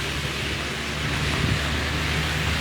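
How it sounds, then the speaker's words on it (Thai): Rain falls steadily outdoors at a roadside crash scene on a wet night, a dense, even hiss of rainfall with no break or voices. "ตอนนี้ฝนตกด้วยลำบากหน่อยนะครับ"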